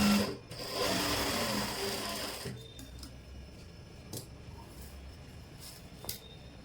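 A sewing machine runs a steady, fast mechanical whir while stitching a pant seam, then stops, leaving quiet handling clicks and faint fabric rustles.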